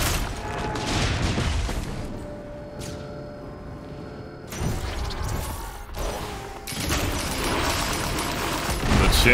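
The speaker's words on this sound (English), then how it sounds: "The chain reaction of bombs." Bombs set each other off in a chain reaction in Risk of Rain 2, a string of loud booms and crashing bursts rolling on for several seconds with brief lulls and mechanical game noise between.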